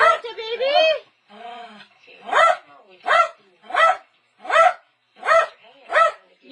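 Lakeland Terrier barking in a steady series of about six sharp, evenly spaced barks, close and loud, after a brief stretch of sound at the start.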